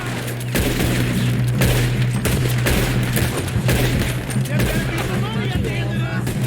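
Shotgun blasts and other gunfire boom repeatedly during a train robbery in Red Dead Redemption 2, dense and loud over game music, with voices talking throughout.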